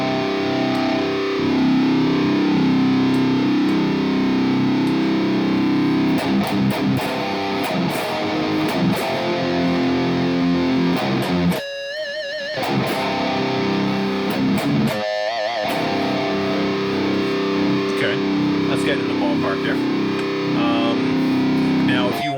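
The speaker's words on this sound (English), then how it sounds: "to increase the amount of solid state distortion, just turn up the gain" Dense, buzzy solid-state distorted electric guitar through a Hotone Ampero II playing continuously and loud, with a couple of brief dropouts near the middle.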